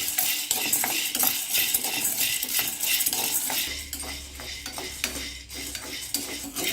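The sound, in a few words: roasting winged beans in a pan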